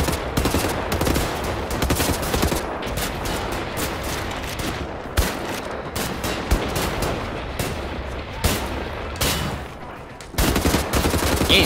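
Rapid bursts of automatic gunfire in the video game Wolfenstein: The New Order, loud and close, in repeated volleys with short pauses and no talking.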